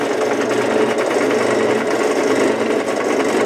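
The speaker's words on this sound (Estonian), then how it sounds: "Ja nüüd ma aitan sul puurida ka seda." A power drill runs continuously, giving a loud, steady whirring drone with no pauses for several seconds.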